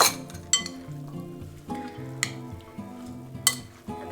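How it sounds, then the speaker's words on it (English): Vegetables coated in sauce are stirred in a pan with a utensil, giving a soft sizzle. Occasional sharp clinks of metal against the pan cut through, and a faint tonal hum sits underneath. "we're gonna give these a stir"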